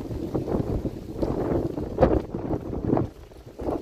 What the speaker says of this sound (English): Sorry if the wind's bad here.